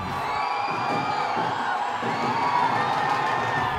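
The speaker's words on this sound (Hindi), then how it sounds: "पुणे के एक मॉल में हजारों की भीड़।" A large crowd of thousands at a mall in Pune cheers and whoops continuously, a loud, dense roar of shouting voices filling the whole stretch without pause.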